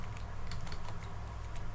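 Quick keystrokes on a computer keyboard, a soft, fast run of clicks close to the microphone against a low background hum, with no talking.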